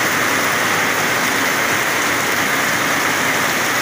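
Heavy rain on the Pernambuco coast, a steady, dense, hissing downpour that stays loud and even throughout, with no voices.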